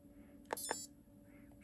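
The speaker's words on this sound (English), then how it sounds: "The buttons are beeping." Two short, quiet electronic beeps close together from the buttons of a Garmin Edge 1000 bike computer, with faint background hiss around them.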